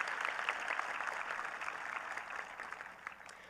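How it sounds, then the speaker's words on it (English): Audience applause fills a high school graduation ceremony hall, a dense, fairly distant wash of clapping that holds steady and fades slightly toward the end. "give them a round of applause"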